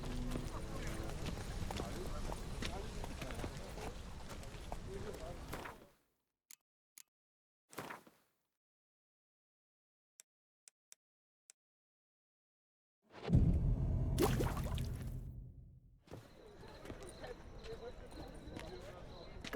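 Hoofbeats of Geralt's horse Roach in The Witcher 3 clip-clop steadily, with a whinny, then go silent for several seconds before the trotting resumes. Talk runs over the hooves.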